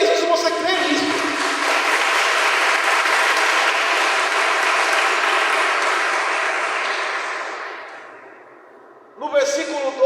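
A church congregation applauds during a service, a dense, sustained wash of clapping that holds steady for about eight seconds before fading, then a voice returns at the end.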